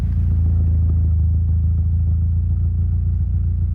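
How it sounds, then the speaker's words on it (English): A Bluebird car idles with a custom stainless steel axle-back exhaust, giving a deep, steady low rumble with a fine rhythmic pulse, close and continuous. "Look at the deep idle."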